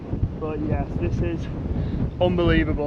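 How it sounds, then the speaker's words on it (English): Strong wind buffets the microphone on a windy hilltop overlooking a town in a crater at Valle de Antón, Panama, a loud low rumbling roar under excited voices speaking. "It's very windy up here, so sorry about that noise."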